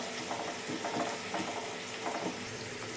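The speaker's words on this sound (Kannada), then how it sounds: "ಈಗ ಕರಿಬೇವು ಸ್ವಲ್ಪ ಚೆನ್ನಾಗಿ ಫ್ರೈ ಮಾಡ್ಕೊಳ್ಳೋಣ." Curry leaves, onion and mustard seeds frying in hot oil, a steady dense sizzle with light stirring scrapes running throughout, close and continuous.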